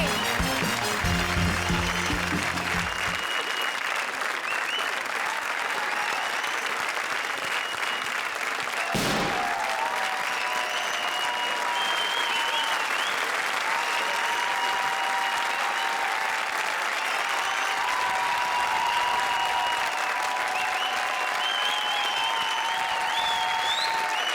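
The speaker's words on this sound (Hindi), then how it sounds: "जोरदार तालियां राजा और निगार के लिए।" Studio audience applause on the Comedy Circus 20-20 stage show, loud sustained clapping from a large crowd that runs unbroken throughout, with music and a brief sharp hit near the start.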